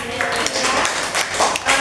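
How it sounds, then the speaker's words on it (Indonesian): Applause for a student after a microteaching session in a classroom, a quick burst of clapping from a small group, close and fairly loud, lasting about two seconds. "Tepuk tangan dulu untuk Ira"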